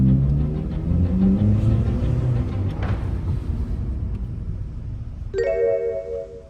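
Car engine rumbling and pulling steadily during a test drive of an auction car, with a constant low drone and a brief chime at the end.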